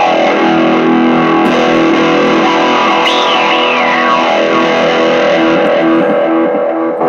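Electric guitar played through a Doctor Q envelope filter pedal, loud and continuous with a dense distorted tone and swelling, sweeping filter movement across sustained chords, no voices.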